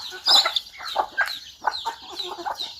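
Chickens cluck in short, irregular bursts close by, their voices overlapping in a busy, quiet farmyard with no talk over them.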